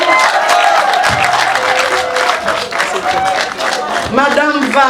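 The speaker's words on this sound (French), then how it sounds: "Applaudissez encore très fort pour monsieur." Guests at a civil wedding applaud the groom, a loud crowd clapping and cheering heavily mixed with talk and music, with a voice rising over the noise near the end.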